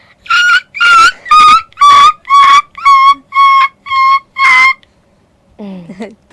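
A child imitates a dog yelping after being hit by a stone, giving about nine sharp, high, whining yelps in quick succession, followed by a brief low voice.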